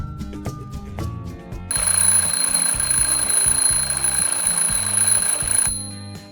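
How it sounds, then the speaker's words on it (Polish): A continuous electronic alarm clock ring in a Playmobil children's story blares steadily for about four seconds over a light background music track. "Pewnego dnia Klarę obudził wcześnie budzik."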